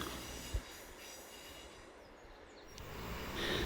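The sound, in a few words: train entering the Devonport Tunnel, Tamar Valley Line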